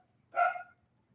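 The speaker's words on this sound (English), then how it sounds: "I'm sorry about the dogs." A single short bark or yip from a dog rings out once, brief and mid-distance, with silence before and after, in a home during an indoor talk.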